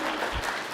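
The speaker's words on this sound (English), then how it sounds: "If you guys could please give her a big round of applause." An audience at a school parent meeting claps in a brief, dense burst of applause, indoors and fairly close, with no talk over it.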